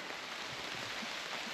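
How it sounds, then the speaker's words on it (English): Light rain falls on a foggy forest trail at Trail of Tears State Park, a steady soft hiss of drops with no talking. "Starting to rain a little bit more."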